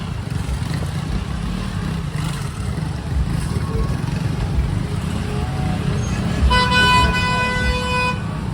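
A car horn blares with a steady tone near the end, over constant traffic and engine rumble on a busy village street in Suárez, Colombia.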